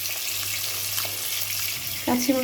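Kachki fish frying in a wok gives a constant, close hiss, and a short tonal sound cuts in near the end.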